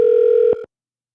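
A telephone line gives a steady, loud ringback tone for about half a second, followed by two short clicks, and then the line goes silent. No one speaks.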